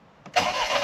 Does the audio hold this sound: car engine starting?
yes